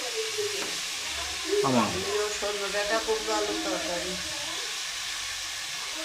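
Vegetable curry of drumsticks, pumpkin and potato cooking on a home stove, giving a steady soft sizzle and hiss throughout, with voices talking over it nearby.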